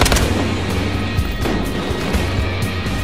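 Rapid bursts of gunfire in Battlefield Hardline crack and thump loudly, several shots in quick succession over a constant rumbling background.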